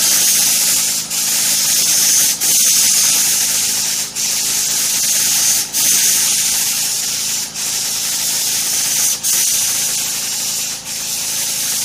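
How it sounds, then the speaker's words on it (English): A paint spray gun lays a second coat on an '86 T-Type car, a loud continuous airy hiss broken by brief dips about every one and a half seconds as each pass ends, with no talking. "I got the gun loaded back up again. I'm going to go for a second coat."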